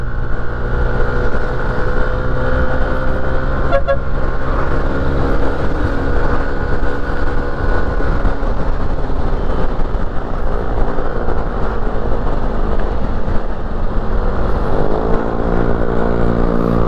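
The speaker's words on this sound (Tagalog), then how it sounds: "Ganyan ang gusto kong tambutso." A vehicle exhaust rumbles steadily and loudly for the whole stretch, with a sustained low engine drone. The pitch shifts slightly near the end.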